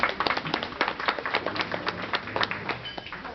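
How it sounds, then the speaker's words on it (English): Applause from a dinner audience, a short burst of many hands clapping in a dense, fairly even patter that carries on throughout without fading. "Give yourselves a round of applause."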